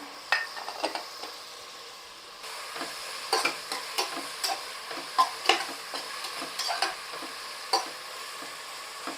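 Ingredients sauté in a pan for Dindigul-style mutton biryani, a low sizzle punctuated by repeated spoon scrapes and taps against the pan at an irregular pace.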